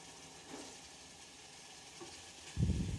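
A faint steady sizzle of a frying tempering fills the background, then a louder burst of sizzling and clatter erupts near the end as soaked, cooked rajma and lobia lentils are added to the pan.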